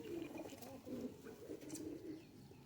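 Pigeons, a crossbred pet flock in a home loft setup, coo in soft repeated rolling calls, near and moderately quiet, with a few faint chirps overhead and no speech.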